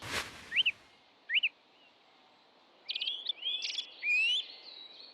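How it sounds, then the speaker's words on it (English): A song thrush sings from the top of a tree. Its clear whistled phrases come in short repeated bursts, then a busier run of notes. It sounds fairly distant but distinct against a quiet background. "You hearing that? Song thrush at the top of the tree there."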